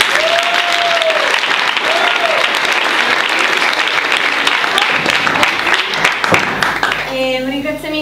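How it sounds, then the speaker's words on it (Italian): Sustained applause from an audience honoring the students of Oristano at the Premio Gaber 2013 event, a steady dense wash of clapping throughout with a few cheers, and a voice begins speaking near the end. "un applauso ancora una volta ai ragazzi di Oristano"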